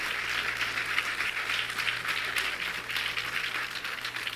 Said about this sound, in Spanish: ¿Y qué le vamos a regalar? Un fuerte aplauso.